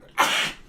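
A single sharp human sneeze, close and fairly loud, a quick burst that tails off within half a second.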